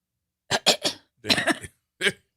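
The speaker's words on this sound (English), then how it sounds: "Let me clear my throat." Someone clears their throat and coughs in three close bursts, short harsh rasps separated by brief silences.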